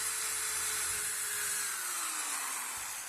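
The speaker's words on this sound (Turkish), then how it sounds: "Şu an mesela çok hızlı devirde deliyorum." A high-pitched electric drill whines steadily at top speed while boring, loud and close, its tone sliding slightly lower as it loads up.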